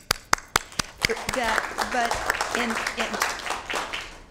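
Scattered applause at an environmental commission meeting for certificate recipients, starting with a few sharp isolated claps and building into light clapping under someone talking.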